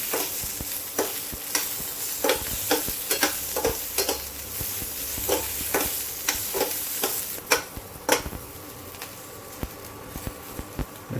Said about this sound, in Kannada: ಬೆಂಡೆಕಾಯಿ ಕಟ್ ಮಾಡಿದ್ರಲ್ಲ ಅದನ್ನು ಲೈಟಾಗಿ ಫ್ರೈ ಮಾಡಿಕೊಂಡು